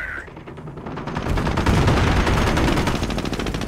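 Dense, sustained gunfire from the video game Company of Heroes: Tales of Valor: a loud, continuous rattle of overlapping automatic bursts that swells after a quieter opening and keeps pounding without a break.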